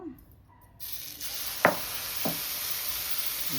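Wheat dosa batter hitting an oiled stove pan gives a steady, close hiss of sizzling, broken by a couple of short scraping clicks from utensils.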